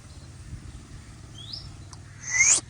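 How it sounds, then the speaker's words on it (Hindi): A small bird gives a brief, bright rising call near the end, with a fainter chirp earlier, over quiet low background hum. "इस साइड पे एक चिड़िया की आवाज़ आ रही होगी,"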